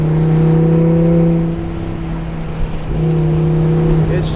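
A tuned Audi RS3 five-cylinder engine revs deep and throaty outdoors among trees and holds steady, dipping briefly in the middle before climbing back up, loud and close with no talking.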